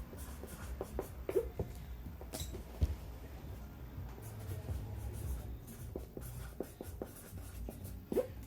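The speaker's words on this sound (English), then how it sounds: "And then I'm going to write it also on one side and the other side as well." A Sharpie marker writes the word fragile on the sides of a cardboard shipping box, faint squeaky scratching strokes in short bursts with soft rustles and thumps of the box being handled.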